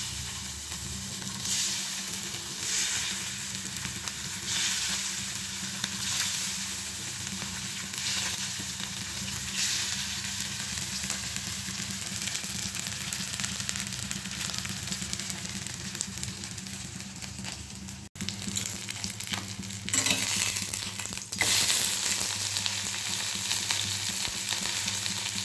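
Fritters (bora) fry in oil in a pan with a steady close sizzle and crackle throughout, along with occasional stirring scrapes, and no speech.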